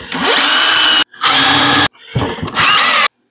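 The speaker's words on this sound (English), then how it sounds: "I want to do 3 pilot holes" A power drill bores pilot holes in wood for a raised garden planter in three loud, close whirring runs separated by short silences, with the motor pitch shifting as each bit cuts in.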